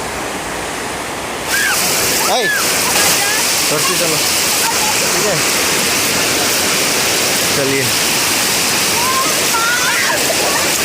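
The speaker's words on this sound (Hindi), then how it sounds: "पानी का बहाव" A river near Maibang in Assam rushes loudly and continuously during a crossing on foot, with splashing throughout and people talking briefly over the water.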